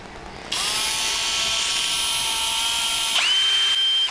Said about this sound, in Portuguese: vai escutar alguma coisa com essa furadeira assim